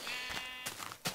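A sheep bleating in the video game Minecraft, one wavering bleat followed by a short second call, clear and close with no talking.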